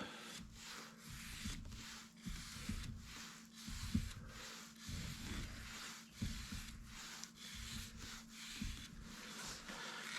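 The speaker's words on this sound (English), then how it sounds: "I'm just sealing the wood to protect it a little bit." Sealer is rubbed by hand onto a wooden plaque, giving repeated soft scrubbing strokes in an uneven back-and-forth rhythm, close and quiet, with a faint steady hum underneath.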